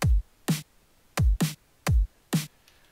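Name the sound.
basic drum and bass drum pattern made in Fruity Loops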